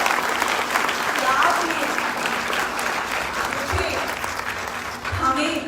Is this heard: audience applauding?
yes